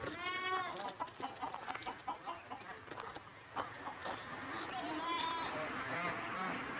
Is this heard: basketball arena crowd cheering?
no